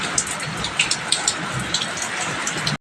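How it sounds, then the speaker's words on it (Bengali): Steady rain falls outside a house, a continuous hiss with regular sharp drip taps landing close by, ending suddenly. "বৃষ্টি পড়ছে"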